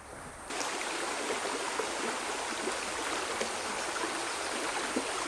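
A flowing stream in a riparian area along the water in Red Rock State Park, Arizona, rushing steadily and fairly loud as a continuous broadband wash, with no voices present.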